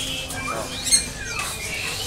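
Cucak ijo songbird giving sharp, brief squawking calls at a bird market, with other birds chirping faintly around it.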